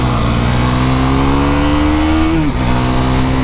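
A Husqvarna Svartpilen 401, a 400 cc motorcycle, accelerates on a test ride. Its engine drones loud and close, rising steadily in pitch, then dips briefly at a gear shift before pulling on under constant wind rush.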